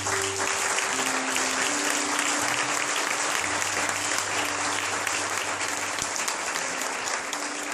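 A church congregation applauds steadily for several seconds during a revival service, the dense clapping filling the room with a sustained held tone underneath.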